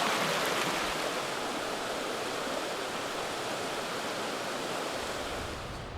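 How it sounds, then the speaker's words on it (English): Cold mountain stream rushing through the Unaka Mountains of Tennessee, a steady broadband roar of flowing water that holds constant and close throughout, with no voices. "cold water in those rushing streams and waterfalls"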